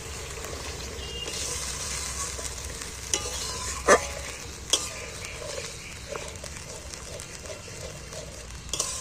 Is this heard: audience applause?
no